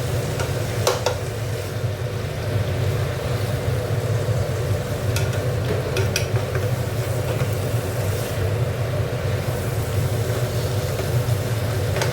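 Small ghuso prawns in a chachori with peas, turmeric and chilli fry in a kadai, giving a steady, close hiss of sizzling oil with light stirring scrapes and a few sharper clicks, no talk.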